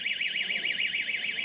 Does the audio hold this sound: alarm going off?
yes